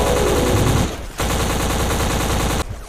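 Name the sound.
gunfire in the video game BLACK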